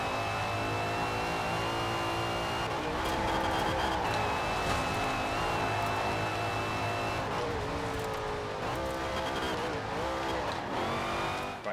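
A racing car engine in a video game revs continuously and loudly, its pitch climbing and dropping with gear changes, one sustained drone filling the whole stretch.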